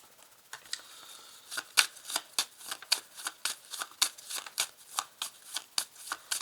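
Small tarot cards of the major arcana are shuffled and cut by hand, producing a close run of sharp papery flicks in a quick, fairly regular rhythm that builds after a quieter start.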